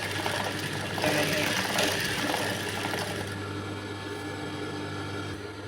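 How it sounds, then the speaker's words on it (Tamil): A sewing machine runs steadily while stitching back and forth over torn fabric, a continuous close whirring mechanical drone that holds throughout and eases slightly toward the end. "துணி இல்லாத இடத்துல இந்த மாதிரி குறுக்கு நெடுக்குமா தையல் போட்டுக்கலாம்"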